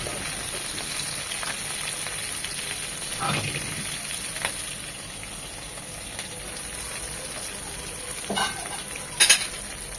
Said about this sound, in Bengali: এইভাবে উল্টিয়ে পাল্টিয়ে চিকেনগুলো ভেজে নেব।